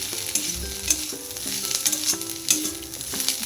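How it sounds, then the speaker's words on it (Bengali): Onions frying in a pan for Bengali potato masala, a steady close sizzle with intermittent scrapes and clinks of stirring, while soft music plays underneath. "এইদিকে আমার আলু মশলার জন্য পেঁয়াজটা ভাজা শুরু হয়ে গেছে অলরেডি।"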